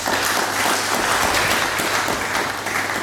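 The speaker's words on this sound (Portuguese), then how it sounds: "Uma salva de palmas." An audience at a talk on religious freedom claps in sustained, dense applause, steady and fairly loud throughout, with no voices standing out.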